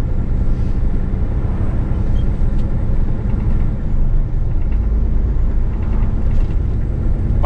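Semi truck tractor on snow chains pulling away on a snowy road, a steady loud low engine rumble with drivetrain roar held throughout, close and continuous.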